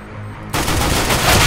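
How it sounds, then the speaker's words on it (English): AK rifle firing in the video game CS:GO: a loud burst of automatic fire breaks in suddenly and hammers on without pause to the end. "I heard an AK"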